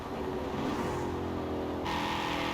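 A Koenigsegg CCGT engine in Forza Horizon 4 drones steadily from outside, its tone shifting partway through as the pitch rises, continuous and fairly loud with no voices.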